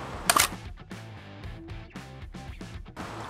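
A Mamiya RB67 medium format film camera fires its shutter with one sharp, loud mechanical clack near the start, followed by steady background music.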